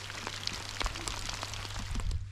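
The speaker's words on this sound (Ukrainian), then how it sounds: "Дивіться, який дощ." Rain falls steadily during a carp fishing session outdoors, a dense close patter of drops striking nearby surfaces with scattered sharper taps, no voices.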